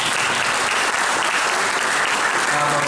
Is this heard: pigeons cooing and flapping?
no